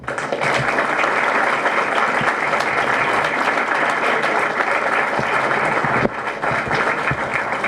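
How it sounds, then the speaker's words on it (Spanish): A hall audience at a talk given by a court of justice president bursts into long, even applause, many hands clapping steadily at a fairly loud level with no voices over it. "Fuerte el aplauso."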